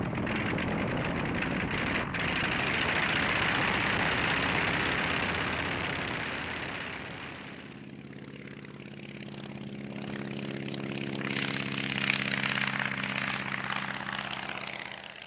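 A WW1 Airco DH2 biplane with its original rotary engine takes off at Wickenby Airfield. A loud, rough engine roar swells and then settles into a steady droning hum as the aircraft climbs away, with no talking.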